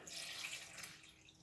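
Water runs and splashes over grapes being washed in a container, a faint, continuous trickling wash lasting just over a second.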